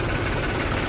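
A tractor engine idles close by, a steady low rumble with a slight knocking pulse running unbroken through the whole second, with no talk over it.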